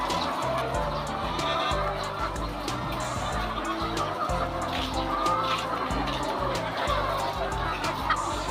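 Healthy farm chickens clucking steadily at close range, a dense continuous flock chatter with scattered sharper calls and no clear speech over it.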